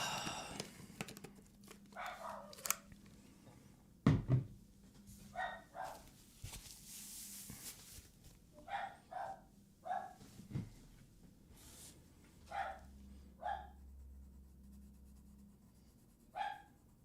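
Several dogs bark in scattered short bursts at middle distance, with a few louder yaps and pauses between, against a low background hum and some faint breathing or panting.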